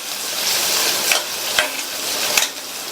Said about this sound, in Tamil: இந்த வெங்காயம் ஓரளவு லைட்டாக கலர் மாறுற அளவுக்கு வதக்கிக்கணும்.